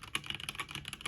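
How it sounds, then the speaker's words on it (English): Rapid, loud clacking key presses on a Hyper Alloy Origins mechanical keyboard, a dense run of sharp clicks close to the mic with no talking. "If I just press a couple keys, like that is a really loud keyboard."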